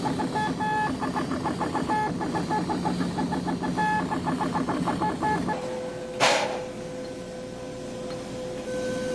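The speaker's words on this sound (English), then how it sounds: "In the inking machine, the failed circuits are marked with a black dot." A wafer inking machine marking failed circuits with black dots runs with a fast, regular mechanical ticking and hum, then stops; a brief sharp hiss follows and a faint steady tone lingers.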